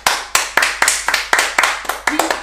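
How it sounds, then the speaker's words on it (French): A few people clap their hands in a quick, steady rhythm of about ten sharp, close claps. "Applaudis avec moi."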